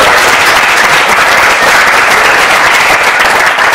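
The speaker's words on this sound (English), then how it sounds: "So let's give one more round of applause." A luncheon crowd gives a round of applause, a loud, dense, continuous wash of clapping from many hands that holds steady from start to finish.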